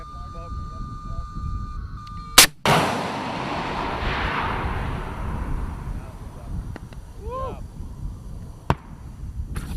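A FIM-92 Stinger missile launches at live-fire target practice with a sharp, loud blast followed by a long fading roar as it flies off, then a distant crack, while people talk nearby.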